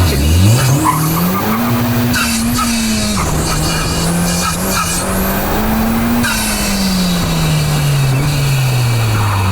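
A car skids and drifts with traction control switched off. Loud, sustained tire squeal rides over a roaring engine whose pitch rises and falls through the slide, with no talk.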